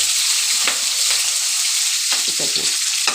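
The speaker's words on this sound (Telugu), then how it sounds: "బాగా బ్రౌన్ కలర్లో వేగాలి ఫ్రెండ్స్, అప్పుడే టేస్ట్ వస్తుంది." Green chillies and curry leaves fry in hot oil for a brinjal curry, a constant loud crackling sizzle with a few scraping stirs, close up and alone.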